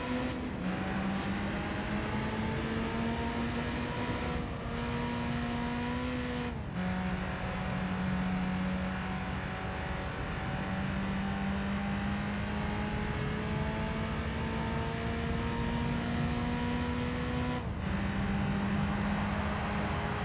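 A Mazda Miata's engine drones steadily while racing in Gran Turismo 3, holding a sustained buzzing tone with several abrupt gear-shift dips and pitch climbs, alone and continuous.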